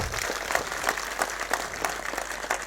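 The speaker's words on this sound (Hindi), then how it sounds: "जोरदार तालियों से स्वागत होना चाहिए।" A crowd at a state-level political party workers' conference in India claps steadily, a dense, sustained wash of applause at moderate loudness with no voices standing out.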